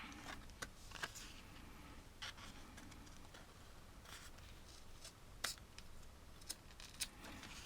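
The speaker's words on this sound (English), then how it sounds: "I'm going to take my craft scissors and just cut it to the edge like that" Quiet, sparse snips and rustles of craft scissors trimming cardstock for a stamped card, close but faint, in short irregular strokes with no talking.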